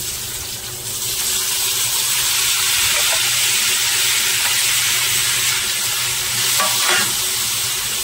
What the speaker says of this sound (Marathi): आता आपण हा कांदा आहे ना थोडासा गरम करून घेऊ।